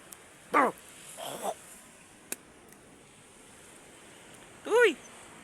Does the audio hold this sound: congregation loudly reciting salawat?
no